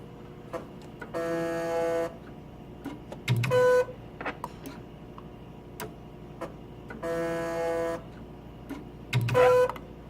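A K&S 4524AD wire bonder running its bonding cycle, giving repeating bursts of mechanical buzzing tones about every six seconds, each followed by short beeps and clicks, over a quiet background hum.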